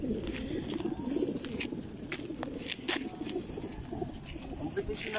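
Racing pigeons at a pigeon racing club coo in a steady, low, continuous murmur from a flock, with faint higher chirps scattered above.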